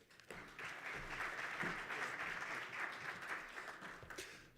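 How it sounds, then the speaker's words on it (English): Conference audience applauding steadily for several seconds after a brief summary of the day, a dense, even wash of clapping from a seated crowd, moderately distant and without talk over it. "give him a round of applause"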